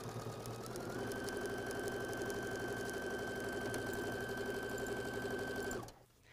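A sewing machine stitches a quarter inch quilting seam through block and border fabric, running steadily and close with a fast even whir for about six seconds, then stopping.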